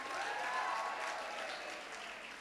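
Audience applause at a Kenya High School Boma Day event, steady dense clapping filling the clip from start to finish, holding strong then easing slightly toward the end.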